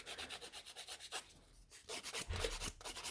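Hand filing shapes a short gel nail extension built with bottled builder gel, giving steady back-and-forth rasping strokes at a quick even rhythm, close and fairly quiet, with a brief pause midway and no talking.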